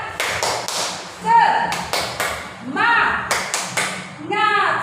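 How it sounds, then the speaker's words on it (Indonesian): Students perform the rhythmic 'tepuk semangat' clapping routine in a classroom: sharp claps in quick bursts with pauses between, mixed with group voices chanting along. "Yuk, kita tepuk semangat. Tepuk semangat."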